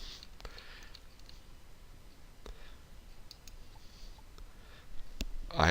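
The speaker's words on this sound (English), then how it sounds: "I'm going to click on this point." A computer mouse clicks sparsely and sharply several times at close range over a faint quiet room hum, single isolated taps spaced irregularly, with no talking.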